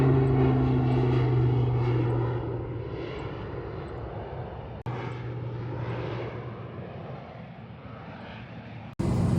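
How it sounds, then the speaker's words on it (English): A crop-dusting propeller plane applies fungicide over a farm field, its engine drone loud as it passes, then gradually fading as it moves away outdoors, with no talking. "someone is getting fungicide applied with a plane."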